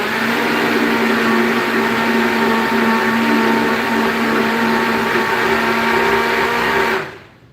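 A blender whirs steadily and loudly while mixing an avocado, cream cheese and jalapeño dip, a constant motor drone with a pitched hum that cuts off abruptly near the end.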